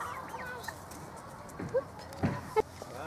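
A few soft clucks from chickens close by over a quiet background, scattered and brief.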